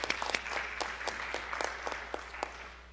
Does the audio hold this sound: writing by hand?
no